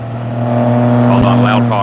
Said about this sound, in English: Hold on, loud car.